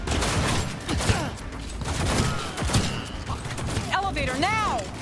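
Gunfire in the Cyberpunk 2077 video game, scattered shots and a rattling volley mixed with shouting voices, game effects and music, the firing mostly buried under the talk.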